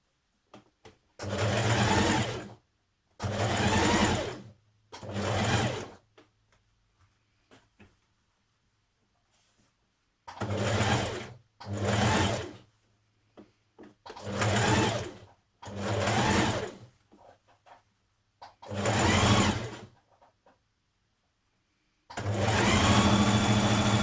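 Several separate bursts of a sewing machine stitching a 1.5 cm seam on an occasion dress, each run a few seconds long with near-silent gaps between, close and clear.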